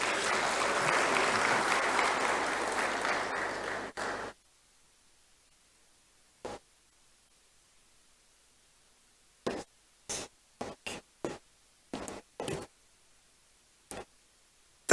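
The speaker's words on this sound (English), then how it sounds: "Let's give her a round of applause." Audience applause at the opening ceremony of a high-level Africa civil society AML/CFT conference in Botswana, a dense round of clapping lasting about four seconds that stops abruptly, followed by scattered brief knocks and clicks.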